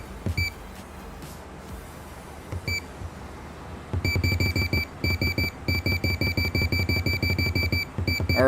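An interval workout timer beeps in a steady series of short electronic tones after a few scattered early beeps, repeating evenly at close range with no voices.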